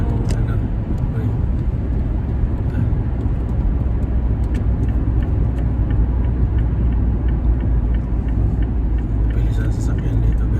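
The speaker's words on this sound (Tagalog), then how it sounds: "Bilis ang sasakyan dito guys, pero disiplinado naman mga driver dito" Fast cars rush past on a highway in snowy Canada. A loud, continuous rumble of tires and engines swells as each vehicle passes close by, and a voice talks over it.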